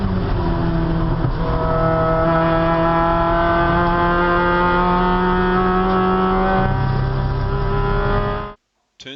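A race car laps the Phillip Island GP Circuit at higher speed, its loud engine note holding steady and slowly rising in pitch close to the mic for about eight seconds before cutting off abruptly.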